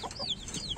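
Desi hen clucking close by, a few quick, soft clucks and squawks in a short burst.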